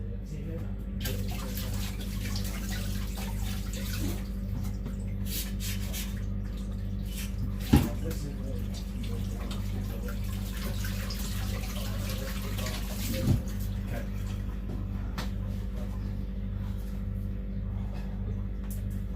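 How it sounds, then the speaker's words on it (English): A kitchen tap runs in a steady hiss for hand washing, with two sharp clunks of something knocked against the sink partway through and no voices over the water. "And then I'm quickly just going to wash my hands."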